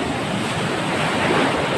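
Sea waves surge and crash around a small boat out lobster fishing, forming a dense, loud, continuous wash of surf mixed with wind noise on the microphone.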